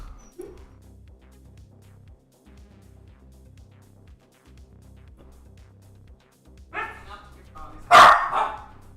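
A dog barks in the background during a Beyblade live reaction stream: a few loud, sharp barks burst out near the end over a quiet, steady low backing sound.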